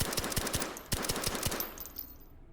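Suppressed Ruger Mark IV pistol fired at a range in the VR game H3VR, a rapid string of muffled, thudding shots in quick succession, close and fairly loud, with no talking.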